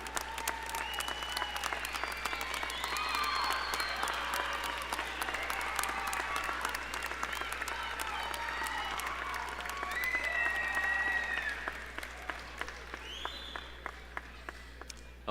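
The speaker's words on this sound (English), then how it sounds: "Point to them, applaud them," Graduates at a 2022 Snow College commencement on the Richfield campus applaud their supporters: steady, dense clapping from a large crowd that holds for most of the stretch, then thins into scattered claps near the end.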